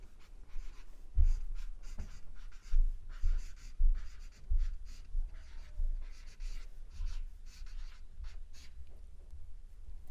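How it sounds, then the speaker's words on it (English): A pen scratches across paper as a poem is written out by hand, in steady bursts of close scratching strokes with short pauses between words and no speech. "So I'm gonna write this part exactly as I did this first stanza."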